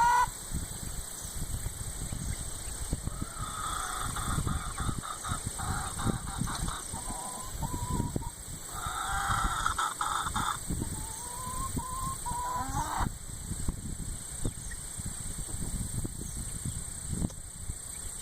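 Golden hybrid hens cluck and squawk on and off at close range, several birds calling over a steady background hum.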